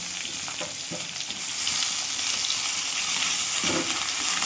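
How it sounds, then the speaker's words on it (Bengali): Potato and eggplant pieces frying in oil in a pan with black cumin seeds, a loud continuous sizzle that swells after a moment and holds steady, broken by occasional soft stirring knocks. "ভালো করে ভেজে নেব লাল লাল করে।"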